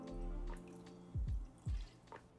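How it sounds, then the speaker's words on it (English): Fish sauce is poured into a pot for caramelized pork ribs, making a few soft, quiet drips and trickles with brief low splashes near the end. "Now to the pot, we'll season that with 2 tablespoons of fish sauce."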